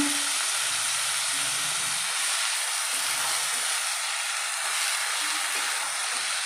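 Red amaranth greens fry with shrimp in a pan, giving a loud, continuous hissing sizzle that holds evenly throughout with no talking.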